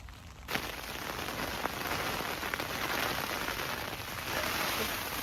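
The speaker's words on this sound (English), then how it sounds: "Rain's really coming down now." Heavy, steady rain drumming on a taut tent fabric close by, a dense continuous patter with occasional louder drops, no voices.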